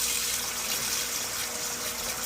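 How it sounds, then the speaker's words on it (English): Tap water pours steadily into a pan for cow foot washing, a continuous broadband splashing hiss, close and fairly loud, with no talking. "So I'm catching some water into my pan"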